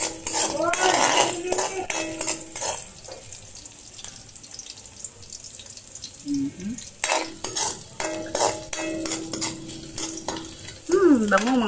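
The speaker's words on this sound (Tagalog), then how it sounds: "Nigigis na natin sa hanggang sa mag-brown." Canned ground pork sizzles in a pan as a utensil scrapes and clanks against the metal in repeated stirring strokes, close and busy, with someone talking over parts of it.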